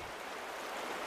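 Fast-running water of the Meander River, a dense steady rush and hiss close by, continuous and moderately loud with no other sounds.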